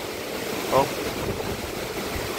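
Strong typhoon wind battering a coastal home near coconut, papaya and banana trees: a steady, loud roaring rush buffeting the microphone, with a brief voice under it.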